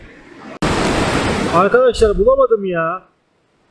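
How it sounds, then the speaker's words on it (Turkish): Cold surf-spot ocean waves crash as a broad, steady roar close by, continuing beneath someone speaking briefly at the end. "arkadan okyanusun sesini duyuyor musunuz?"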